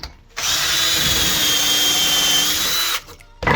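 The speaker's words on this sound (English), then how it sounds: "then you drill it in." A power drill whines steadily for about two and a half seconds while drilling into wood with a jig, loud and close, then cuts out, with a brief start of another burst right at the end.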